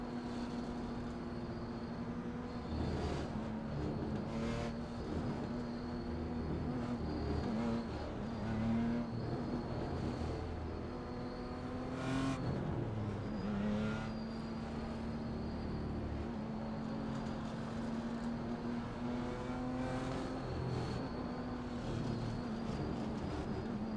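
Race car engines drone and whine in the iRacing video game as a race gets under way, a steady layered engine hum with pitch rising and falling as cars accelerate together.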